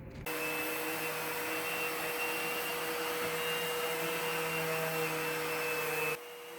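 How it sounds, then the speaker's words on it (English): A small cyclone dust collection system running in a woodworking shop, a steady loud whooshing roar with a faint tonal whine, switching on and off abruptly, no talking. "this little dust collection system, the Cyclone, is the bomb"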